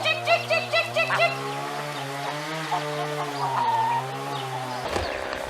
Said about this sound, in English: let's go check out the bantams and see what they think of it